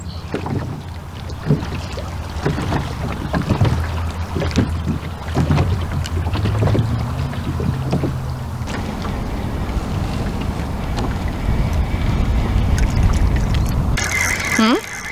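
Steady wind buffets a fishing boat out on an Okanagan lake, a constant roaring rush with the rumble of the boat underneath and people talking over it.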